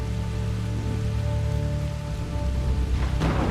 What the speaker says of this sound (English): We wrote a new shader for rain that causes puddles and raindrops to show up with increasing amounts of rain